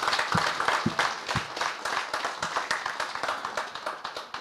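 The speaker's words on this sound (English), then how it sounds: "can everybody just give every single officer, every single member of staff, a huge round of applause?" Audience at a police recognition luncheon applauding officers and staff, a full room of clapping with individual close claps standing out over a steady wash, sustained throughout.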